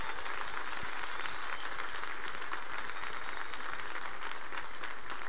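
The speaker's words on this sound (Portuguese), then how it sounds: "Você pode aplaudir o Senhor?" A church audience claps during a youth service, with sustained dense applause at an even level throughout and no voices standing out.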